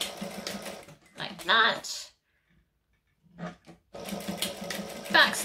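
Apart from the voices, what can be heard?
sewing machine stitching a line with back stitch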